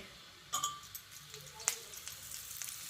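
Cumin seeds hit hot oil in a pan, giving a quiet crackling sizzle with a few sharp pops and a light metallic clink near the start.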